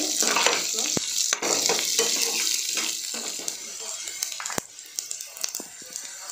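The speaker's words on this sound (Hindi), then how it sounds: "लहसुन डालने के बाद अदरक, प्याज, और सबको भून लेंगे अच्छी तरीके से।" Garlic, ginger and onion sizzle and crackle in hot oil while being stir-fried for a pumpkin curry, with a spoon scraping and clinking against the pan, close and steady.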